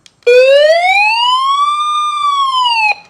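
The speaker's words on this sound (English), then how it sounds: "The red button is an SOS button, and it is loud." The SOS alarm on a hand-crank emergency weather radio sweeps up and back down in pitch in one long, loud, piercing siren-like wail, close and alone, then stops.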